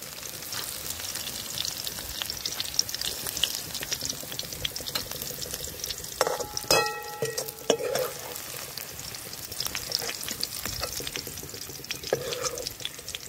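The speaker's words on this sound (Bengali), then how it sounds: "বেরেস্তাটা ভাজা হয়ে গেছে, তুলে নেব।" Onions frying in oil for a spicy chicken dish give a steady, close sizzle, with occasional clinks of a stirring utensil against the pan.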